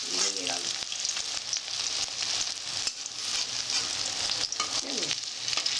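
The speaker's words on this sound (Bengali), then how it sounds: "আর আরো একটু ভাজতে হবে" Prawn cutlets (chingri macher chop) sizzle steadily in hot oil in a pan in a home kitchen, a continuous close frying hiss with occasional stirring scrapes.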